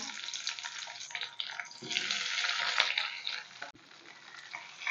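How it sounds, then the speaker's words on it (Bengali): Chopped onions frying in hot oil tempered with nigella seeds and dried red chillies, a close, crackling sizzle with stirring scrapes that swells and settles over a few seconds. "পেঁয়াজ হালকা করে ভেজে নেব"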